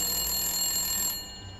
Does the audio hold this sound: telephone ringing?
yes